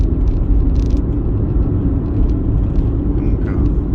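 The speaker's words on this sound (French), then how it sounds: "je vous embarque en vision conducteur dans cette Dacia Spring" A small Dacia Spring city car drives along rough local roads, with a steady, loud, low road rumble and tyre noise heard from the driver's seat.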